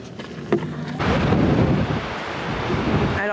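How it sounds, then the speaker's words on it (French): Strong gusts buffet the microphone in a steady roaring rumble near Gullfoss waterfall in Iceland, with a brief thump early on and no voices. "vous devez rien entendre vu le vent qu'il y a"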